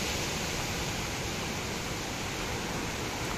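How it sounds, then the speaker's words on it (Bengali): Sea waves surge against the shore at high tide at Gangasagar, heard as a steady, loud, broad roar of water with no breaks and no talk. "সমুদ্রের জল একদম পাড়ের গায়ে ধাক্কা মারছে।"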